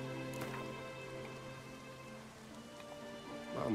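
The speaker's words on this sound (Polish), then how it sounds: "Znowu pada." Rain falls in The Witcher 3, a soft patter of drops laid over a quiet musical game ambience, faint and continuous.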